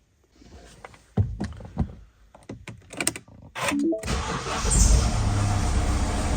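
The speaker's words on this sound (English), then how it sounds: "Start and run the engine" Close to a Mini Countryman Cooper SD All4 diesel after an oil service, a few light clicks and clatters come first, then the engine cranks, catches and settles into a loud, steady running drone.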